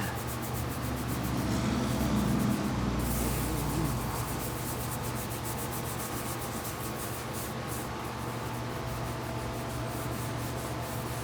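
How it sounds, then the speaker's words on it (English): Steady hand scrubbing on a metal bearing shell being tinned for a Babbitt pour, a continuous loud rasping rub with brief rhythmic strokes, close by and unbroken for the whole stretch. "The hand's getting tired of scrubbing."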